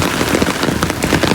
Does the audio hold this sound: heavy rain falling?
yes